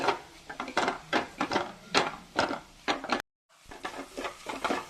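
Onions and carrots sauté in a pan under rhythmic stirring strokes, each scrape and sizzle coming in quick bursts close by, with one brief silent break before the stirring resumes.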